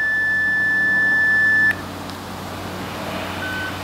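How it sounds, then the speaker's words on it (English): Steady 750 hertz access tone keyed from a handheld radio to open an amateur repeater, a single loud continuous tone lasting about a second and a half, then cutting off into quiet hiss with a faint short tone near the end. "Now this one needs a special tone, 750 hertz tone."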